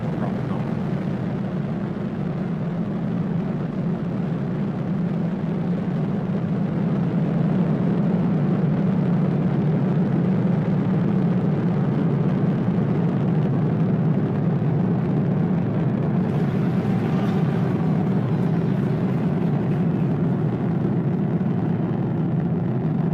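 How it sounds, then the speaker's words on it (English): SpaceX rocket engines at ignition and liftoff on the Demo-1 mission give a loud, continuous low rumbling roar that holds steady for the whole stretch with no break. "Ignition, liftoff. Vehicle is pitching downrange."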